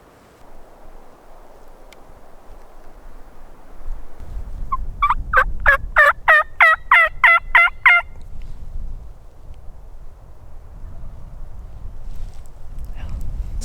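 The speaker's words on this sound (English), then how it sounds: "there was one that was gobbling really close" A wild turkey gobbles loudly and close on a spring evening in mountain woods, one rapid rattling burst of about ten notes after quiet ambient hiss.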